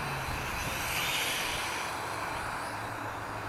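A Sharper Image Platinum Series Lunar 14.4-inch FPV drone flies nearby, its propellers giving a continuous buzzing whine over steady wind-like noise, with no talking.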